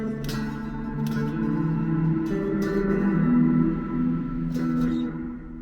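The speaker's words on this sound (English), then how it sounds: "big reverby stuff going on with delay and reverb and all sorts" Layered bass part drenched in reverb and delay: sustained low tones with a few plucked attacks whose tails echo and smear into a long wash, played alone without talking.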